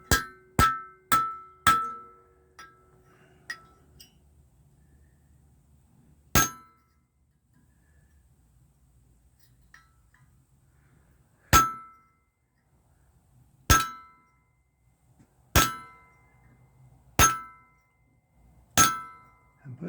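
Sharp metallic clangs of a blacksmith's hammer striking rebar used as tool steel, a quick burst of four blows followed by sparse, evenly spaced ringing strikes, loud and close, with quiet pauses between.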